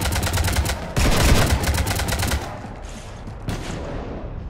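Gunfire in the video game Mass Effect 3, Citadel DLC: loud rapid automatic bursts. A heavier volley follows, then the shooting thins out and fades, with one brief burst near the end.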